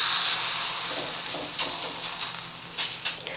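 Oil hisses on a hot griddle while holige cooks, giving a steady, close sizzle that slowly eases, with a few short sharper bursts toward the end.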